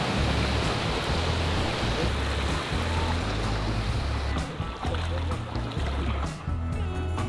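Creek water flows steadily at a muddy clay crossing, a dense continuous rushing wash that stays loud and unbroken, with a low rumble underneath.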